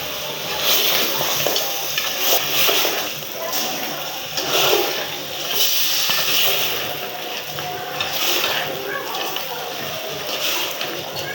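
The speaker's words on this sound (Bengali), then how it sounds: "মাংসটা দেওয়ার পরে আমরা মোটামুটি 15 থেকে 20 মিনিট আমরা নাড়াচাড়া করে ভালোভাবে কষিয়ে নেব" Goat meat, with a goat's head and kochu flower cooking in a village kitchen, is stirred and braised in a pan, a steady sizzle broken by repeated scraping stirs over faint background chatter.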